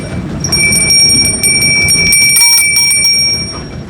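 A small warning bell on a flour mill rings in rapid repeated strikes, bright and metallic, loud and close, sustaining for several seconds before fading, heard alone without talk.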